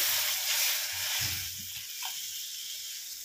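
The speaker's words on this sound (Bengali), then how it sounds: "এবার ঝোলের জন্য জল দিয়ে দেবো" Water poured into a pan of sizzling pabda fish curry with panch phoron, a brief low splash and bubbling rising under a steady frying hiss that stays even throughout.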